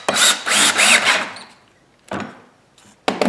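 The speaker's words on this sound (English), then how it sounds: "I don't have a driver bit the right size for these lag bolts, so I have to use a regular drill" An 18-volt cordless drill drives lag bolts into wood in a workshop: three loud whirring bursts back to back, then a pause and two short spurts.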